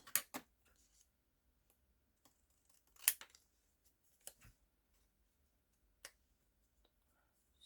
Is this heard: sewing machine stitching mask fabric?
no